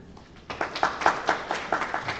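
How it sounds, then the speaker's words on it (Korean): A small audience at a Korean academic society lecture claps to welcome a speaker, a brief, fairly sparse burst of steady rhythmic clapping that starts after a quiet moment. "조민성 이사님 박수를 맞아주시면"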